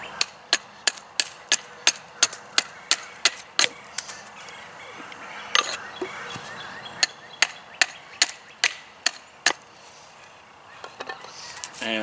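Axe hewing wood by hand in an outdoor bushcraft setting, trimming a piece down with sharp, evenly spaced chops in a steady rhythm, close and loud, pausing midway before a few more strikes and some quieter handling noises.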